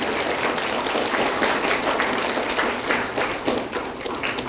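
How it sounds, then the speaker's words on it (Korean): An audience at a political lecture in Haenam, South Korea, claps steadily and densely throughout, a close, continuous wash of hands with no pauses. "맞으면 박수나 쳐보시오."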